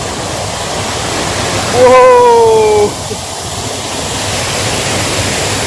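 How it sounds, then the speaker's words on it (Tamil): Steady broadband roar of the Chinnar check dam waterfall in the Western Ghats foothills after heavy rain, continuous throughout, with a voice briefly calling out a drawn-out exclamation near the middle. "மேற்கு தொடர்ச்சி மலைகளின் அடிவாரத்தில் நம்ம சின்னார் செக் டேம் ஃபால்ஸ்"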